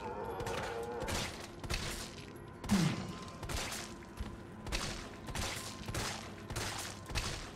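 Gunshots in Resident Evil 3 Remake, spaced single shots firing at a steady rhythm about every second, moderately loud over a low game ambience.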